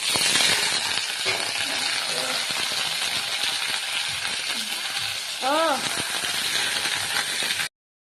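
Onions, green chillies and French beans sizzle in a hot frying pan, a steady broad crackle lasting the whole clip. A voice briefly speaks over it midway.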